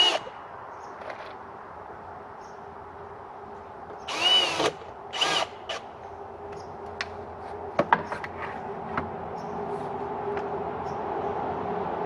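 A power drill driving screws into a firewood rack built from pallets, two short whirring bursts of screwing, then scattered taps and clicks over a low steady background, close.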